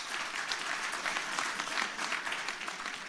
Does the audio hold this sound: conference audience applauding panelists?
yes